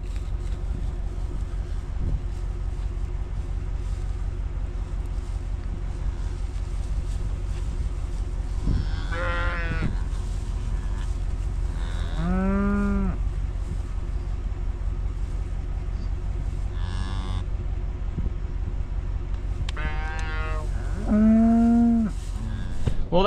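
Black Angus cows, a heifer and calves moo in a pasture, several drawn-out calls spread apart, some close and loud, others farther off, over steady wind and a low engine hum.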